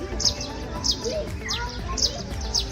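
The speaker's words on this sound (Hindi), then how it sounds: "चुर चुर चुर की आवाजें आ रही हैं, परिंदे चहचहा रहे हैं" Birds chirp and tweet at a resort at daybreak, repeated short high calls coming every half second or so over a low background hum.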